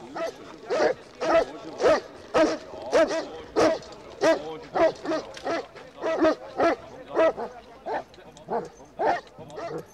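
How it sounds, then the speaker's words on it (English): Trained Swiss rescue dogs bark repeatedly among earthquake ruins in Romania, a steady run of sharp, fairly close barks with a few whimpering yips in between. "Swiss dogs and their handlers were moved in"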